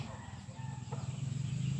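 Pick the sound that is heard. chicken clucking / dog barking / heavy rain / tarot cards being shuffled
chicken clucking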